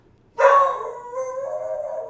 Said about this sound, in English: it sounds like my dog wants to go outside